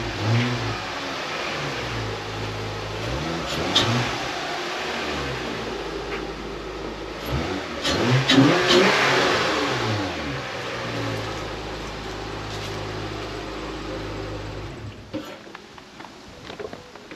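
A car engine cranks to life and revs repeatedly, the pitch rising and falling in several surges before settling. Loud and close, with no talking over it.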